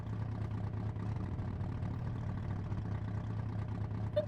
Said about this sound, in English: I need to go cuss somebody outside because they're revving their engine.